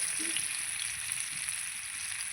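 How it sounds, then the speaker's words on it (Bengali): Pumpkin pieces fry in oil for a Bengali hilsa fish and pumpkin dish, giving a steady, soft sizzle close by with no one talking. "এই যে আমার কুমড়ো ভাজাটা হয়ে গেছে এবং লাল লাল করে ভেজে নিয়েছি"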